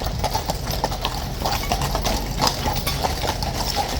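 Household Cavalry troopers of the Blues and Royals riding back into a tunnel, their horses' hooves clip-clopping loudly in a dense, echoing clatter, with a low engine hum underneath.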